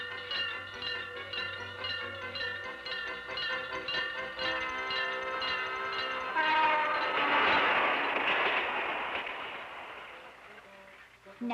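A train rolls past a level crossing, its horn sounding in long sustained blasts that swell and fade while the wheels clatter steadily beneath, loud and close before receding.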